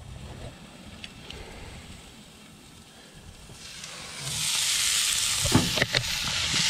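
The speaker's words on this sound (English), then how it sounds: "Searing up very nicely. Nice brown." Venison searing on a hot grill, a steady close sizzle that swells louder and brighter partway through, with a few faint clinks and scrapes.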